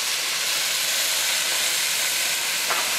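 Chicken sautéing in a pan, a steady close hiss of frying with a faint click near the end and no talking.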